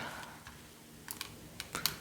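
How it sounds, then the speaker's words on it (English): Keys tapped on a computer keyboard, a sparse run of faint clicks that turn into quicker, louder clusters toward the end, with no voices. "I got the super nice keyboard at a thrift store"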